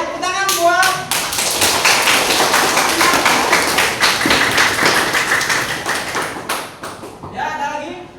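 Students in a junior high school classroom clap together in a quick, steady, ringing burst that runs several seconds, loud and close, with a teacher's voice speaking at the start and end.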